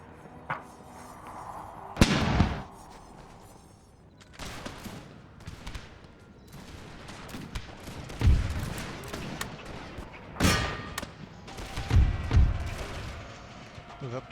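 Musket volleys crack in a black-powder battle in the Empire 2 mod of a strategy video game, bursts of gunfire rolling in clusters near and far, with scattered heavier booms and battlefield clatter throughout.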